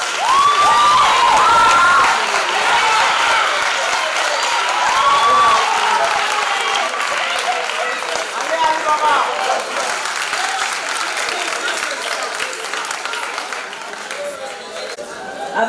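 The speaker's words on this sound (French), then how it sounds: "je crois qu'on peut à nouveau tous les applaudir" An audience at a theatre competition final applauds a high school's students: sustained crowd clapping with cheers, shouts and chatter, loud at first and gradually easing off.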